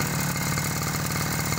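A lawn mower engine converted into a water pump runs steadily nearby, a constant, even putter with no change in speed across the brief moment.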